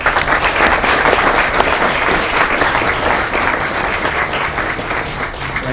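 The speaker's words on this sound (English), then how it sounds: "a warm applause for the panelists" Sustained, loud applause from an audience for panelists at an energy security discussion event, a steady, dense wash of many hands clapping with no break.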